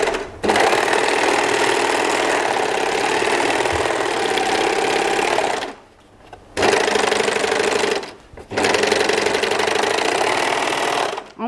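Sewing machine stitching the side seams and crotch of drawstring pants, running in three long steady bursts with short pauses between, loud and close with no talking.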